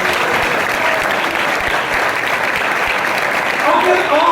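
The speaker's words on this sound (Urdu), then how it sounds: "اپنے خدا کے لیے زوردار تالیاں بجائیں" A church congregation in Sialkot claps hard and fast in dense, continuous applause that fills the room, loud and close, swelling slightly toward the end with faint voices underneath.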